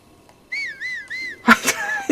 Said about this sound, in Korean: 휘파람 불었어